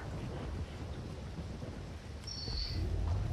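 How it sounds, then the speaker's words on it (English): Rain falls inside a building in a dinosaur survival game, a steady hiss with deep thunder-like rumbling underneath and a brief high whine near the end, no voices. "it's raining in the building, and I'm not sure why it's doing that"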